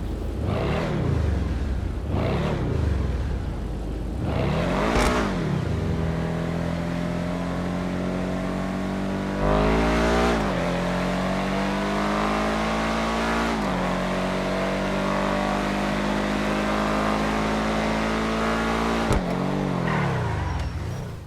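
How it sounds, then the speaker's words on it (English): A Schlagen sports car in GTA Online revs hard several times, each throttle blip rising and falling sharply, then settles into a long, loud sustained engine howl that holds before dropping off near the end. "the Schlagen has to be the most all-round great sounding car"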